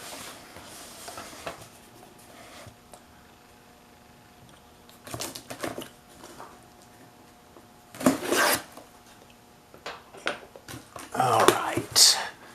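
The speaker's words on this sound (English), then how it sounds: "I'll let you check out me cutting this open. How about that? Alright, trusty old X-Acto knife again." An X-Acto knife cuts open a cardboard package in short, scratchy bursts of slicing and tearing that grow louder and denser toward the end, close to the listener, with some brief handling noise between cuts.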